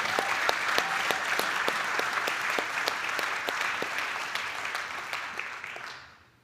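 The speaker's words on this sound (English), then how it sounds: "let's give them a round of applause" Sustained audience applause at an inspection-industry keynote event, dense steady clapping from a large crowd that holds level for about six seconds before fading out at the end.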